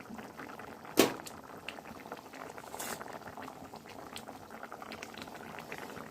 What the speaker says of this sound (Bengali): দেখো ঝোলটা ফুটে উঠেছে।